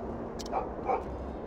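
A voice mimics a dog barking in the Octopath Traveler game, with a couple of short, yappy barks over a steady background music bed.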